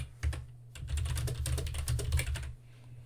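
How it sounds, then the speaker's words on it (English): Text is typed on a computer keyboard in a quick, uneven patter of soft key clicks, heard close but fairly quiet over a low background hum. "If I type some text,"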